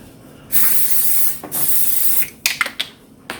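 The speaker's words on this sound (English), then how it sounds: "I'm going to go ahead and spray." Two long hissing bursts from an aerosol cooking spray can, followed by a few short sputtering spurts, close and loud.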